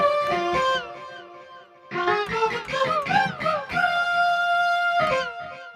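Korg iWAVESTATION synth on iPad with an overdrive distortion effect, playing bright, harmonically rich sustained notes and chords that break off briefly, then return in a busier run, steady and fairly loud with no talking.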